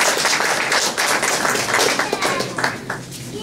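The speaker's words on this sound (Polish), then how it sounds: "Brawa." Dense, steady applause from an audience at an indoor gathering, many hands clapping close and loud throughout, easing slightly near the end.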